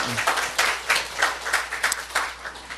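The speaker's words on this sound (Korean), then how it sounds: "하나님께 박수 올려야 돼요" A church congregation applauds together during a Sunday sermon, a dense rattle of many hands clapping at close range that keeps going steadily.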